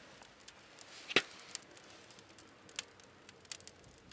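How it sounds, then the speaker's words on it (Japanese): Firewood burning inside a wood stove gives off sparse, faint crackles and pops, with one sharp snap standing out against a quiet background. "これは木が燃えた時の音だね"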